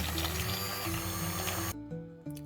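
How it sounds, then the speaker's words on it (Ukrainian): A steady electric whir of a blender mixing keto cookie dough with eggs runs for a couple of seconds, then cuts out and restarts briefly with a lower hum. "і блендером ми це все перебиваємо."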